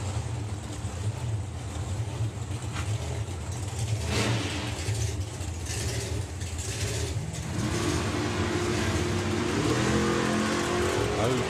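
Drag racing cars launch off the line at the FIA Main Event 2022, engines roaring in a loud sustained blast that swells and climbs in pitch toward the end.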